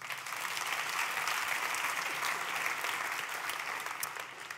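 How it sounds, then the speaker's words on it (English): An audience at a startup finance event applauds steadily, a dense, even wash of clapping from many hands that holds at a consistent level throughout without fading, with no voices over it. "Can I have some applause for them,"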